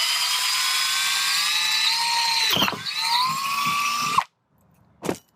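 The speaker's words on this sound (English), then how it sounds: "Now I'm ready to drill the holes for the chicken waterers." A power drill with a 23/64 inch bit whines steadily at high speed through a five-gallon plastic bucket, pitch dipping as it bites and slows, then stops; a brief second burst follows after a short silence.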